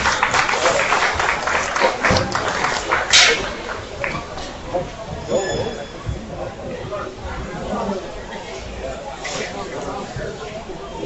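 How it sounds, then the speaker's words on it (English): An audience at a market hog show class breaks into sustained clapping, loud at first then thinning out, with crowd chatter and people talking underneath. "Let's go ahead and give all the individuals in that class a nice big round of applause"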